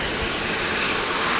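Jet airliner engine noise from a Boeing 737 at Brisbane airport, a steady broad roar filling the short moment with no pauses and no talk.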